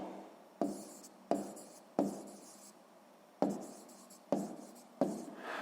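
Numbers are written by hand during a sixth-grade maths exercise, six distinct pen or chalk strokes each starting with a sharp scratch and trailing off, spaced roughly evenly over a few seconds with no speech.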